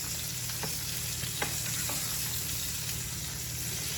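Hot butter sizzles steadily over a reverse-seared tomahawk steak on a pellet grill, with a constant hiss and a few faint clinks.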